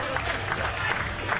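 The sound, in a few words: warm applause from powerlifting competition audience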